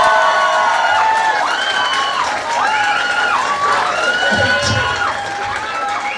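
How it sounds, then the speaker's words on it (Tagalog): A live audience at a second-anniversary show claps and cheers for a contestant. A continuous crowd roar carries on under sweeping, tonal music and voices. "Palakpakan na si Ma'am Jo!"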